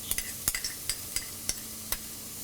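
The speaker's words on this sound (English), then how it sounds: "Saute until the onions are golden color." Ginger and garlic sauté with onions in a hot pan for mushroom masala, a steady sizzle broken by regular clicks and scrapes of a spoon stirring, close and alone without talk.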